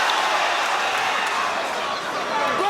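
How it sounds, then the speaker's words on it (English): Heavyweight boxing arena crowd in the Derek Chisora versus Kevin Johnson bout, a loud, continuous roar of many voices swelling as Chisora attacks, with dense broadband crowd noise throughout. "Chisora thinks that he might have his man going here, and the crowd responds"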